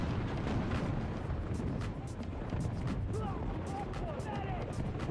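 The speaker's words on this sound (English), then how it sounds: "the explosion just went off all around here" Battlefield 2042 combat rumbles with dense, continuous explosions and artillery-like booms all around, loud and sustained, with a voice talking underneath the blasts.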